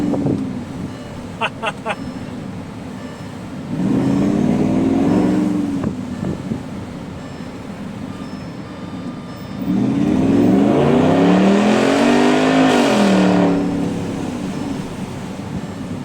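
A car with a faulty exhaust revs and accelerates in two strong surges, loud and close, with wind buffeting the phone microphone between bursts.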